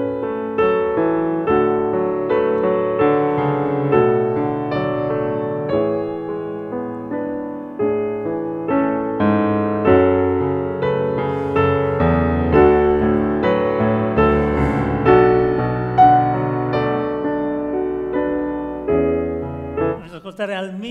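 Solo piano plays a slow, lyrical idyll passage with sustained chords and melodic lines, steady and close throughout, ending with a brief clatter.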